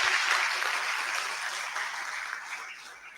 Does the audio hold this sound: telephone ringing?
no